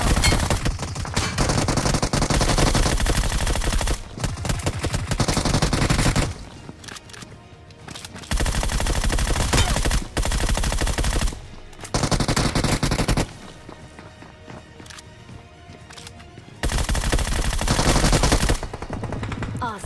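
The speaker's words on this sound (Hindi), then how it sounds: "अभी मुझे राइट से बंदों की फायरिंग की साउंड आ रही थी" Gunfire rattles in a battle royale video game: loud machine-gun bursts and rapid shots come in long volleys, broken by brief quieter gaps before the firing resumes.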